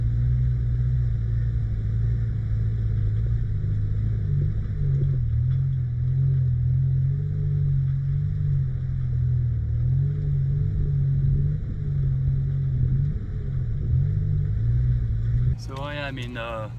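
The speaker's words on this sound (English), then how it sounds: "So I am in 4 low in first gear, crawling through this field of rock" 4x4 vehicle in 4-low first gear crawling slowly over a rocky field in New Mexico, a steady low engine drone with faint rattles from the rough ground, and a brief tone near the end.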